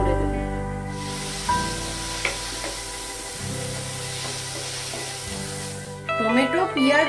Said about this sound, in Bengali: পেঁয়াজ আদা আমার লাল লাল করে ভাজা হয়ে গেছে, এবার আমি এতে টমেটো অ্যাড করে দেব।